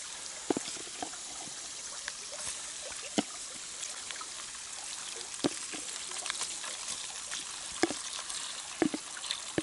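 Juice poured off snails cooking in a frying pan: a steady hissing trickle with scattered small pops and crackles, continuous and fairly quiet throughout.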